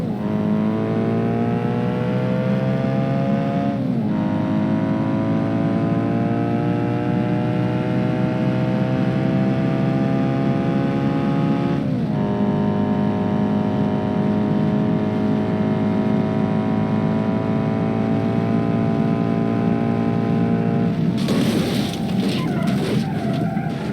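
Slow-motion car crash into a van in BeamNG.drive, a drawn-out, pitched-down engine drone with layered harmonics, punctuated by a few dull impacts and ending in a louder, noisy crunch of collision.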